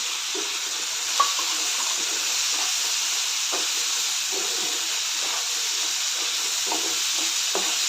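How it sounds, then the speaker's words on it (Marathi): Field beans (pavta) sautéed with onion and tomato in a pan, a constant close frying sizzle and hiss with occasional soft stirring scrapes throughout, and no voices. "आता ह्यामध्ये पावटा एक दोन मिनटं पावटा ह्यामध्ये परतून घेते"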